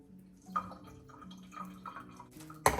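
Juice drains from a can of olives in soft, close drips and light trickles at a low level, ending in a sharper splash or clink.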